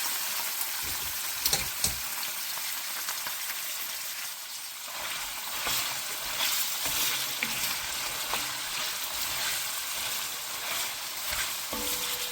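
Beef fries in a frying pan with a bright, steady sizzle and crackle, close and loud, broken now and then by stirring scrapes.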